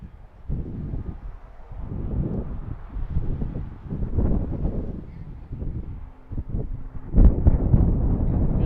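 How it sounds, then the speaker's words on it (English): Strong wind buffets an outdoor microphone at an airfield, a continuous low roaring rumble with surging gusts throughout and a harder blast near the end. "Strong headwind right now."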